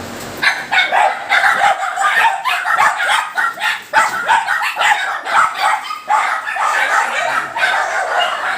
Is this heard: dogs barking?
yes